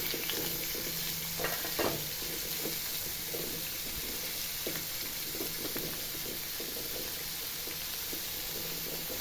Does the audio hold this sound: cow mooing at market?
no